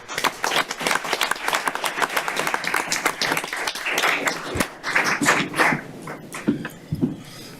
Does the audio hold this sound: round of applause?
yes